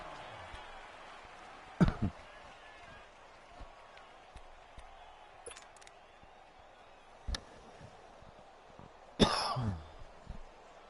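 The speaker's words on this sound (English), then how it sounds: "Take that, YouTube, me coughing." Several scattered coughs, one sharp near the start and a heavier burst near the end, over faint distant crowd and football commentary noise from a Madden game.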